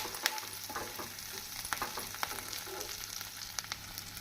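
Steamed brinjal being stirred into onions frying in oil for a Tamil-style brinjal poriyal: a steady close sizzle runs throughout, broken by scattered scraping stir clicks, with no talking.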